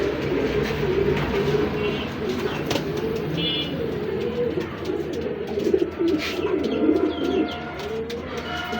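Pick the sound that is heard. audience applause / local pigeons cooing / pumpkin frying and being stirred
local pigeons cooing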